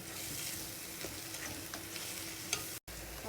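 Tomato thecha frying in plenty of oil, a continuous close sizzle with soft bubbling and faint stirring scrapes, briefly broken by a short gap.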